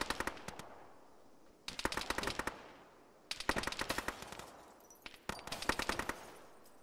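Bursts of rapid automatic gunfire in a military shooter game, four separate volleys of sharp, crackling shots separated by short pauses, fairly close and loud with no talking over them.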